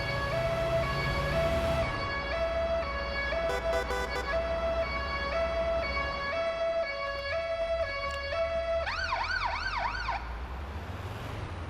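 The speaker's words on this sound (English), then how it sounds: "I just want to shut the siren off ahead of time." An ambulance siren from the driving game Ambulance Life: A Paramedic Simulator wails steadily and loud in a repeating two-tone pattern over engine rumble. It switches to a faster warbling yelp near the end, then cuts off.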